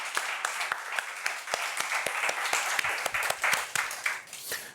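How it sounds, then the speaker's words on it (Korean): Applause from a church congregation: many hands clap in a continuous patter, with sharp individual claps standing out close by at a steady, brisk rhythm. "하나님께 영광의 박수로 찬양 올려드립시다."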